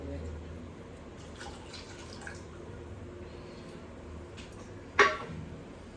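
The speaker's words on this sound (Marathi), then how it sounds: "आणि आता हे पाणी पण घालते मी यामध्ये" Water is poured into a pot of cooking dal, a quiet background then a short, sharp splash near the end.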